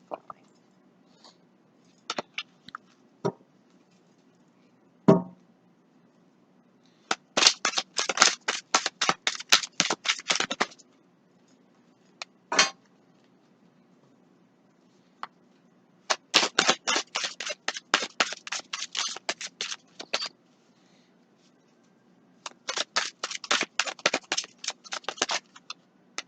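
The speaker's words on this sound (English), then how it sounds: "Cards are falling" Tarot cards riffle-shuffled and dropping onto a surface in three long bursts of dense rapid flutter, with a few single sharp taps and slaps in between, close and fairly quiet.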